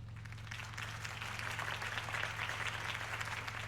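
Steady applause from a crowd in The Batman: The Telltale Series game after a campaign speech, fairly faint and continuous, with a low electronic hum underneath.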